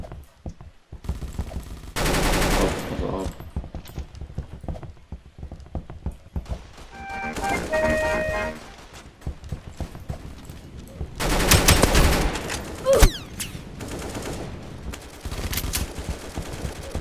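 Rapid gunfire from player guns in the Roblox shooter Aimblox, loud bursts of automatic fire with separate single shots and gaps between volleys, heard without any talk.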